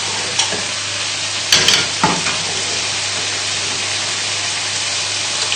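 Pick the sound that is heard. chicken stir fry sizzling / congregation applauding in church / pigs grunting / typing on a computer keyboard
chicken stir fry sizzling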